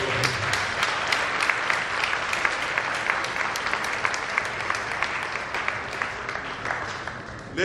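Sustained audience applause at a formal royal-style event honoring Mr. Akiwande Josiah Lashite, dense steady clapping from a sizable crowd for several seconds with faint voices mixed in.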